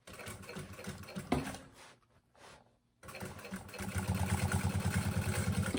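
A sewing machine stitches fabric for a maternity bag, running in a steady rapid mechanical patter up close, pausing briefly in the middle, then resuming with a stronger, faster run.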